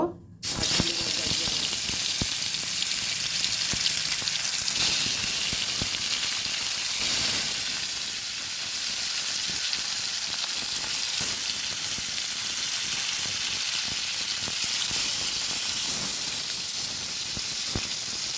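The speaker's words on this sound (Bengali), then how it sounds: "এদিকে কড়াইতে তেল দিয়েছি তেলও গরম হয়ে গেছে এবার দিয়ে দেব" Pieces of snakehead fish drop into hot oil in a wok, setting off a loud, steady hiss and crackle that fills the whole stretch after a brief quiet start, close up, with a few faint taps.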